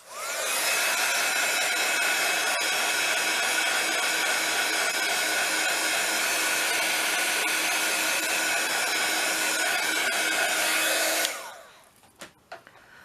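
A hair dryer blows steadily and loudly on a paper mixed-media collage envelope topper for about eleven seconds, then cuts off, leaving a few faint handling clicks.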